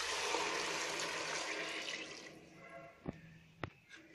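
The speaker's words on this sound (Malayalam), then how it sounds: "അതിനുശേഷം എടുത്തു വച്ചിരിക്കുന്ന വെള്ളം ഒഴിച്ചു കൊടുക്കുക" Water poured into a pot of vegetable biryani masala, a steady rushing splash that tapers off, followed by a couple of sharp knocks of the vessel.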